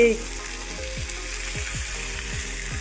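Fish frying in shallow oil, a steady close crackling sizzle throughout with a run of soft regular ticks or taps underneath; no speech.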